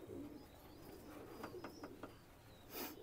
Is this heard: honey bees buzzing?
no